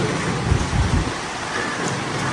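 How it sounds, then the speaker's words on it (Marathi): Steady rain pours down in a dense, continuous hiss, with a few low rumbles in the first second. "बारिश आई बारिश आई छप छप छप"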